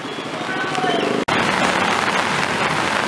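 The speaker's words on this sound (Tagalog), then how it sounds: "Ayan sir, lalo na lumakas ang ulan oh." Heavy rain pours down in a dense, constant hiss during the rainy season, broken once by a sudden split-second dropout before the roar resumes; a voice speaks faintly underneath.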